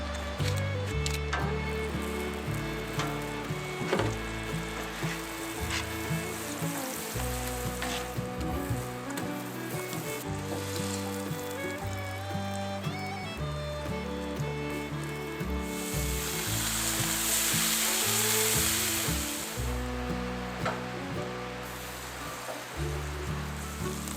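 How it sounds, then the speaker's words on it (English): Cinnabons, eggs and bacon fry on a griddle at a winter camp in Idaho, a constant close sizzle that swells louder partway through, under background music. "for breakfast today, I'm making some Cinnabons on the griddle with some eggs and bacon"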